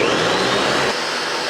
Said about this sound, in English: Everything goes into a blender with some cream cheese,